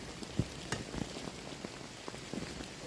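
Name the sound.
heavy rain falling on a tarp tent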